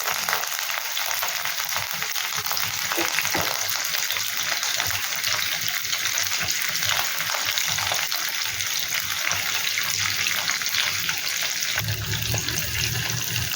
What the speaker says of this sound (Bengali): এই দেখো এই সাইডে কারি পাতাটা ভাজা হচ্ছে